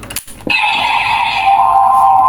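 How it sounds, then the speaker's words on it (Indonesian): A Kamen Rider Zeztz DX Z Driver toy belt gives its standby sound: a click followed by a loud, sustained electronic tone that holds steady and close for about two seconds. "Nah kan, suaranya standby-nya Z Driver kan."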